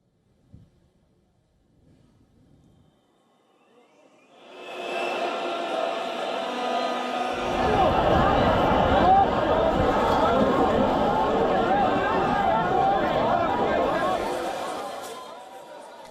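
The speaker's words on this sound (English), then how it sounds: "suddenly there was a swooshing sound and the crowd started running away in panic" At a silent protest in Belgrade, Serbia, a sudden swooshing rumble swells from near quiet and then a crowd scatters in panic, rising into loud, sustained running and chatter that lasts about ten seconds before fading.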